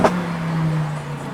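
A Lamborghini Huracan EVO engine drones steadily with a low exhaust hum after a brief sharp onset, close and continuous through a short stretch with no speech.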